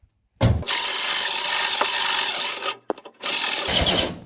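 A 12-volt cordless drill in drill mode runs hard and loud for about two seconds, stops briefly with a few clicks, then starts up again, a harsh grinding whir.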